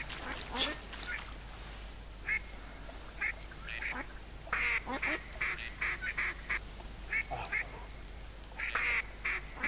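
Ducks quack repeatedly in theHunter while dabbling on the water, with bursts of calls scattered throughout, some fairly close and loud, others fainter over a steady hiss of game ambience.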